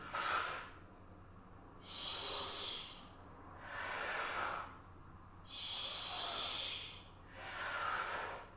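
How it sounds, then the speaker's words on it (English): Deep, rhythmic breathing during a bodyweight arm workout: five slow, airy breaths, long inhales and exhales alternating with short pauses, close and fairly soft, with no talking. "Use your breath to inflate you."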